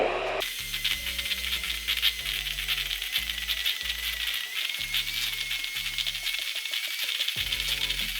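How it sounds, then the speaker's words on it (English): An electric mixer blends cottage cheese with egg into a fine, smooth mixture. A close, continuous motor whine runs throughout, with a rapid rattling, clicking texture from the beaters working through the thick mixture. "I'm going to mix the cottage cheese with the egg together to make it like a more fine structure"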